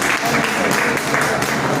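Applause from an audience at a Hindi poetry and ghazal stage event, a loud continuous wash of clapping swelling slightly in waves, with no voices over it.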